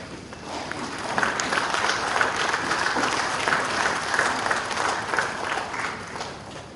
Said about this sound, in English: Let's put our hands together for a round of applause, everybody.